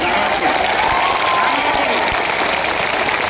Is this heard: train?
no